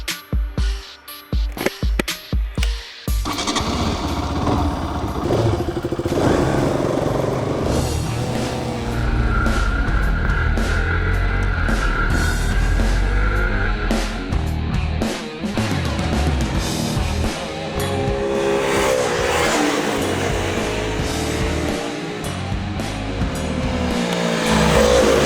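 Two sport motorcycles, a Bajaj Pulsar RS 200 and a KTM RC200, race on a public road, engines roaring loud and continuous for about 25 seconds after a few sharp opening bursts, pitch rising and falling with gear changes.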